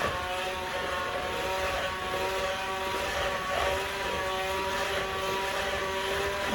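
A cordless hand mixer blends cherry lemonade mix into a cheesecake filling, its motor giving a steady, loud whine at a constant pitch close by from start to finish.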